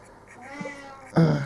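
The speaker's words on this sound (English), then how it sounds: "there's the obvious meow" Lily, a pet cat, gives a short meow while miniatures are being painted. A brief, louder cry comes near the end over quiet room tone.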